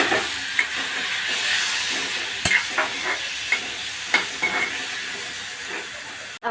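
Chopped tomatoes go into a frying spinach mixture with chili, turmeric, coriander and salt in a pan for palak puri, giving a steady sizzle and hiss broken by several sharp spoon scrapes and stirring knocks, close and loud.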